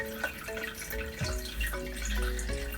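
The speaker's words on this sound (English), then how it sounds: "Step 1. Strain coarsely with a strainer." Home-brewed sparkling nigori sake is strained through a coarse strainer, giving a close, steady trickle of liquid with soft drips and splashes throughout.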